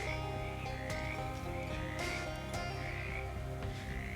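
Frogs croak over steady game background sound in Shadows over Loathing, with a few short sharp croaks rising out of a continuous low ambient bed.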